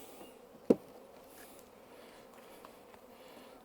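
Honeybees crowd almost five full frames in an open beehive, giving a faint, steady buzz that stays low throughout, with one brief sharp knock partway in.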